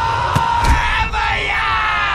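A crowd at a volleyball game yells and cheers in a loud, steady roar, with a couple of sharper shouts rising above the mass of voices.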